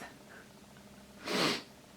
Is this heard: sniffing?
yes